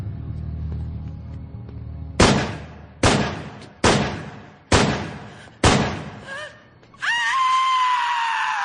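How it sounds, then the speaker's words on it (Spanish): Five loud gunshots from a .38 Special revolver ring out in quick succession, each a sharp crack with a decaying tail, followed by a sustained tone at the end. "En ese momento se escucharon los disparos."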